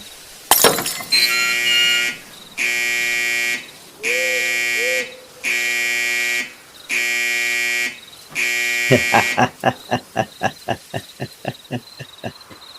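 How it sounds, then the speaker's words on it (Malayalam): An alarm bell in an audio drama rings in six loud, steady bursts of about a second each, separated by short gaps. A faster series of sharp strikes follows. "അടിക്ക്, ആ ബെല്ല് അടിച്ച് തകർക്ക്."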